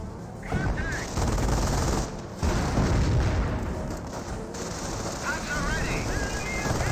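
Battle in the video game Company of Heroes, with dense rattling gunfire and deep booms of mortar and tank shots packed together at steady loudness.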